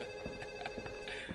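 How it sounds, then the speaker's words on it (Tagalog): A telephone rings with a steady electronic tone over faint room noise and a few soft knocks. No one speaks. "Sagutin niyo nga yung telepono!"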